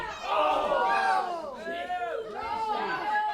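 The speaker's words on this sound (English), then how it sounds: "Listen to this crowd. They're on their feet." A wrestling crowd on its feet at a live match, with many voices cheering and calling out together in a loud, sustained roar that rises and falls in waves.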